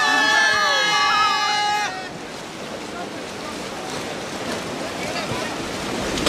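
Rafting on the swollen Kaveri river in Kodagu: a steady broad rush of flowing water and wind fills the scene after a short burst of music at the start, with faint voices in the background.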